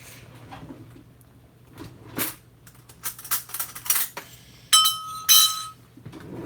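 Dishes and cutlery clink and rattle as serving ware is pulled from a kitchen cupboard, with scattered light knocks building to several loud, bright metallic clanks near the end, no talking.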